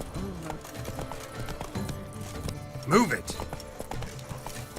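Roach the horse in The Witcher 3: Blood and Wine trots with rhythmic clip-clopping hooves, joined by a brief whinny midway, while a voice speaks over the hoofbeats.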